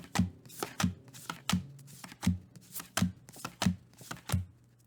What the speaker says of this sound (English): I'm going to shuffle the remaining cards